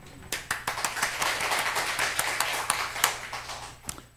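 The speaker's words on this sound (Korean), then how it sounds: "그냥 박수를 치려면 세게 쳐버려요." A church congregation at a Sunday service claps hands together, a run of uneven, fairly close claps with a loose rhythm over a faint background hum.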